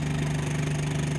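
Coast Guard boat engines running in a marina, a steady low droning hum with a faint rhythmic throb, continuous and fairly close, with no speech.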